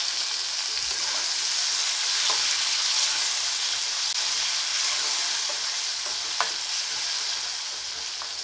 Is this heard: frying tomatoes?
yes